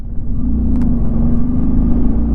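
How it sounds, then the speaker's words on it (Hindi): A motorcycle engine labors with a low, steady rumble while climbing a high-altitude mountain pass toward snow, sounding close and droning without clear revving or change in pitch. "बाइक पावर ही नहीं ले रही भाई"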